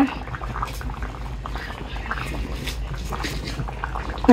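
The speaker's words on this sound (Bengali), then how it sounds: "আজ নিরামিষ টকবক শুরু হয়ে গেছে" A pot of vegetarian curry bubbles at a boil, a close, steady burble of popping liquid with a voice talking faintly in the background.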